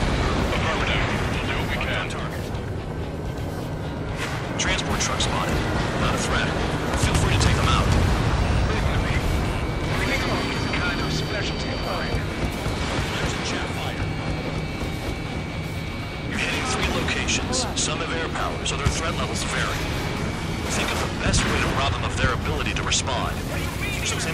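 Anti-air gunfire and explosions in the video game Ace Combat 7, dense sustained booming and rattling blasts throughout, loud and close, with radio voices talking over the battle.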